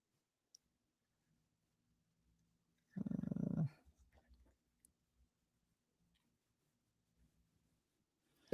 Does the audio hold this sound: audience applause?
no